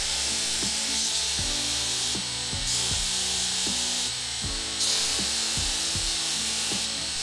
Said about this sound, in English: with the 60 grit belt on the belt grinder, I'm just sort of dressing it up